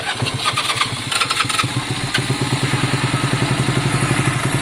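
A Honda CB200 motorcycle being started: a few seconds of starter cranking with irregular bursts, then the engine catches and settles into a steady, rapid, close-up idle putter.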